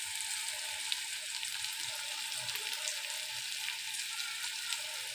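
White eggplant pieces fry with turmeric in a pan, a fairly faint, even hiss of oil sizzling steadily throughout with no stirring strokes or talk.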